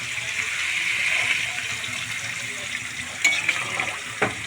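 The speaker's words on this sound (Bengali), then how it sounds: "এখন আমি জল অ্যাড করে দেবো" Water is poured into a pan of spiced rohu fish curry, giving a steady splashing gush over a faint sizzle, then a few clanks and taps of utensils near the end.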